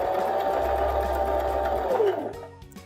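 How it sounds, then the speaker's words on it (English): A Baby Lock sewing machine stitches a button on with its buttonhole foot, a steady close mechanical whir running for about two seconds before it slows and stops. "Then you can just sew the rest of the button stitches."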